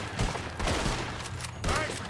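Bursts of gunfire from a Red Dead Redemption 2 shootout crack out in a few loud volleys, separated by short gaps, with scattered shots between them and some background game ambience.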